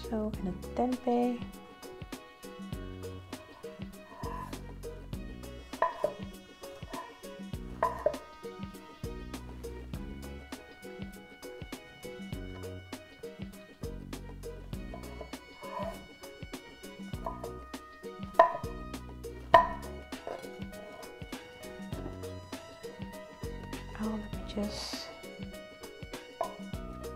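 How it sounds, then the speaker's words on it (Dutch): Tempeh is sliced into cubes with a knife for gado gado, scattered knocks against a cutting board, a few louder strikes, mixed with background music and occasional talking. "lekker een blokje snijden"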